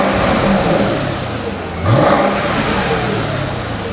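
Up close, a 2003 Mercedes-Benz SL500R engine gives a sharp blip of revs with a rising growl midway, then drops back to a loud, steady idle, with no one talking.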